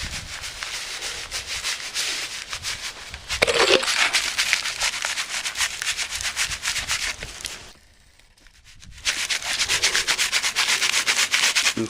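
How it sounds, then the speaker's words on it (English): Fine, damp sand being sifted at a shooting range to recover bullet lead gives a steady granular rubbing and hissing that runs continuously, drops out briefly near the end, then resumes. "It's still taking a long time to get the sand through."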